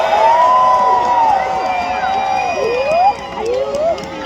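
A large crowd at Gobbler's Knob in Punxsutawney, Pennsylvania, cheering on Groundhog Day 2022: a dense, loud roar full of whoops and rising whistles, with voices mixed in throughout.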